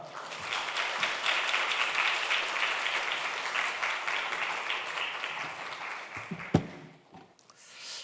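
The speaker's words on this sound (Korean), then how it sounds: "나오실 때 환영의 박수 함께 하겠습니다." Welcoming applause from a church teachers' college audience as a pastor and education professor comes forward to lecture, a steady dense clapping that runs about six seconds then thins into a few scattered claps and room noise.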